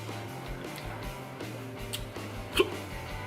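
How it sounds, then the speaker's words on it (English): A man hiccups at a barbecue meal challenge, one sharp distinct hiccup near the end over a quiet background hum and faint ticking. "Those hiccups."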